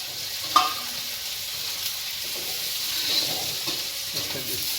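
Green chillies dropped into frying egg bhurji with tomato, giving a continuous close sizzle and a brief clatter near the start, with faint stirring and no clear talk.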